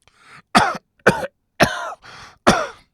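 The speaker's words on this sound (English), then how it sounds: "as I was waiting, I started coughing like this." A man fakes a series of coughs: five sharp, close, loud hacking bursts in an uneven rhythm, with a softer throat-clearing rasp between them, no speech.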